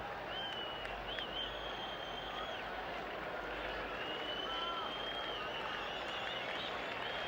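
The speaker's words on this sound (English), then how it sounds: "The crowd is yelling." A baseball stadium crowd at a Twins at Red Sox game in 1991 yells and cheers, a broad sustained roar with whistles and shouts rising over it, steady and distant-sounding across the whole stretch.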